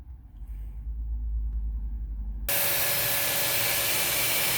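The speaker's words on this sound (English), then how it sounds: "I actually got a vacuum, and I'm going to vacuum out that compartment there" A vacuum cleaner switches on partway through, cutting from a low rumbling background to a loud, steady whine and rush of suction as it clears out the cabin air filter compartment of a 2005 Hyundai Santa Fe.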